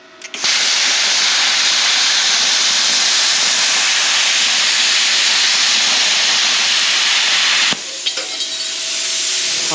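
An Arccaptain CUT55 Pro pilot arc plasma cutter slices freehand through sheet metal, giving a loud, steady, close roaring hiss that holds for several seconds, then breaks off briefly and returns with crackle.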